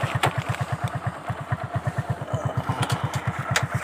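A motorcycle engine putters in a fast, even rhythm of regular beats, moderately close and steady, with some light clattering on top and no talk.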